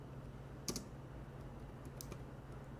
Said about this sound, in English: what I'm typing here?